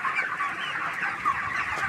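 Broiler chickens, about 32 days old and around 2 kg each, cluck continuously as a dense flock, a steady close chatter of overlapping calls with no one speaking.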